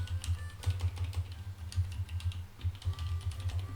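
Computer keyboard keys pressed in quick, uneven bursts while working in the Unity editor, close and fairly clear with no talking.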